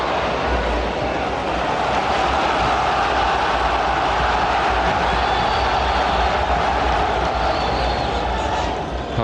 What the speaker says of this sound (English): Home crowd getting behind Blackburn now